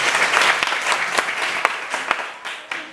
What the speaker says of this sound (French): On applaudit pour le directeur.